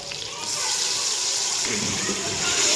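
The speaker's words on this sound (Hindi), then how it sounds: "अब जो है ना पानी डाल दिया गया है चिकन के अंदर" Water is poured from close by into a pot of chicken cooking for a palak chicken dish, making a steady, continuous gushing splash that runs almost the whole time.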